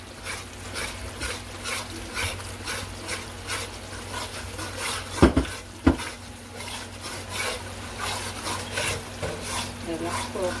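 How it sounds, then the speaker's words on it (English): A spoon turns parsad in a pot in a steady, repeating scraping rhythm, close and continuous, with a couple of sharper knocks against the pot partway through and a faint hum underneath. "Making parsad is a constant turning. You have to constantly turn your pot."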